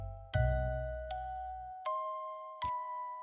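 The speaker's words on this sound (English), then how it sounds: "chains dragging, bells ringing." Four distinct bell strikes ring out at a slow, uneven pace, each leaving a clear sustained tone, heard alone and close, evoking bells carried in a Krampus procession in Michigan.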